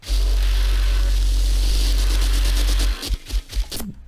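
A loud, sustained deep bass line from a produced track holds steady for about three seconds, then breaks into short pulsing bass hits mixed with crisp high percussion.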